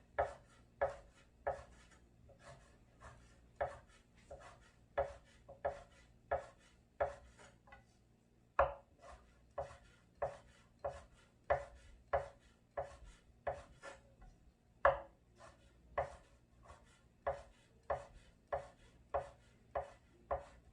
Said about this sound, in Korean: 고기 썰 때는 조금 밀을 때 힘을 줘야 돼요.